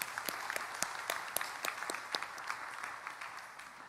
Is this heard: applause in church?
yes